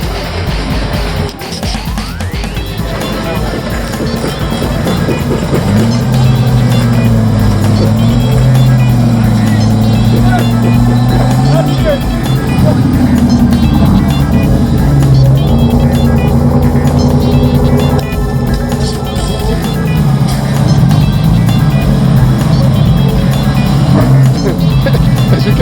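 A tuned BMW convertible with a swapped engine drifting at a Polish drift event, its engine revving hard and steadily, loud and close for the whole stretch, with changing pitch as the throttle rises and falls.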